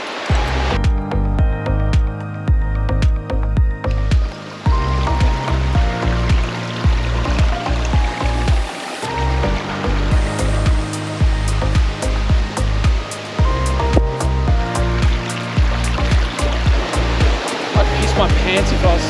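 Rapids on a river in Chichester State Forest rush in a loud, steady, close roar of broadband water noise that fills the whole stretch, with speech faintly mixed in.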